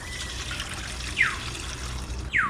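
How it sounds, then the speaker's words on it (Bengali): Hot water poured close by into rice flour while making a batter for patishapta pitha, a steady liquid trickle running for a couple of seconds with a few brighter splashy bursts and no voices. "এবার নামান জল গরম জলটা ঢেলে নিচ্ছি"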